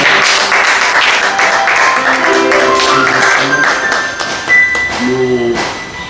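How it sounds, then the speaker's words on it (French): A church congregation applauds, dense clapping mixed with cheering voices and a few sung or shouted tones, loud and sustained before thinning toward the end. "Est-ce qu'on peut acclamer?"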